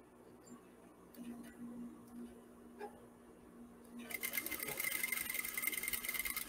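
A sewing machine runs a fine half-centimetre seam through sheer, transparent fabric, starting as a soft whir and becoming a steady, close, continuous buzz in the final couple of seconds.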